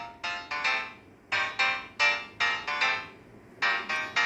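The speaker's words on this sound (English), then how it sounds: "And we have some sounds, the ringtone." A Barbie's Dream House themed ringtone plays on an HMD phone, a bright electronic melody of short repeated bursts in groups of two and three with brief gaps, loud and close with no talking.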